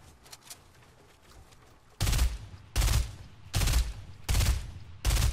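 Gunfire in the battle royale game Fortnite, with quiet distant shots followed by five loud, evenly spaced bursts of rapid fire, each lasting roughly half a second.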